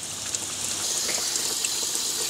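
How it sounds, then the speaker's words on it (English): Coolant-flush water drains steadily from the cooling system of a Ford Laser/Mazda 323 engine during an overhaul, a continuous hissing, splashing rush with no break. "Just let all the water drain out"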